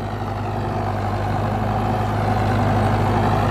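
An Arjun Novo 605 tractor runs at about 1600-1700 RPM in a field, its diesel engine holding a steady, close, even drone with a deep low hum and no voices.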